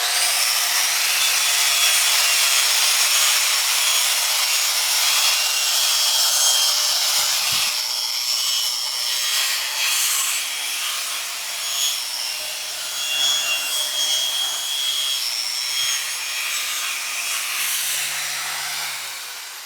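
Belt sander grinding down a small stainless steel weld bead, a steady loud abrasive hiss and rasp that runs without a break, with slight shifts in pitch as pressure changes.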